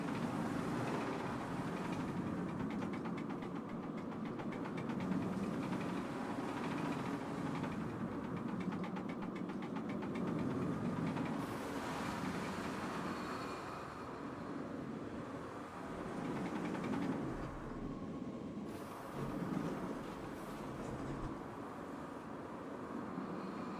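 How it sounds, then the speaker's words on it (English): Roller coaster car wheels straining and rumbling along the track in Planet Coaster, a continuous heavy mechanical roar with shifting grinding tones, steady and loud throughout. "the wheels are hitting the train, it's making a weird noise, like it's stressing it out"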